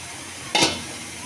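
Fish pieces and ground spice paste fry in a pan during home Bengali cooking: a steady low sizzle with a single short, loud hiss flaring up midway, close by and with no talking.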